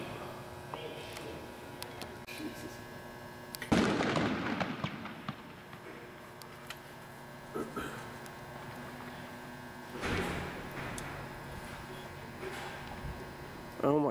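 Airsoft frag grenades bursting inside building windows during a milsim game, two sharp bangs several seconds apart over steady background hum.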